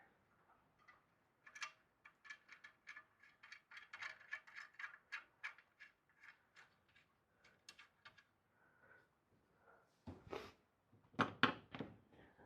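A bolt is screwed by hand into a rivet nut, giving a faint, quick run of small ticking, ratcheting clicks close by, followed by a few louder knocks at the end.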